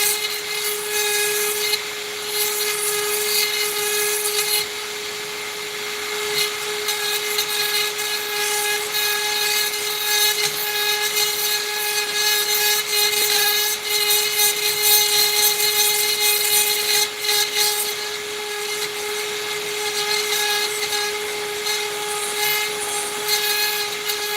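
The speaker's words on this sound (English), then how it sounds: "the Dremel's working good for it too" A Dremel rotary tool runs on a flex shaft, grinding or cutting close by with a steady, loud, high-pitched whine that holds throughout, its pitch dipping slightly around the five-second mark, with a heater blowing in the room.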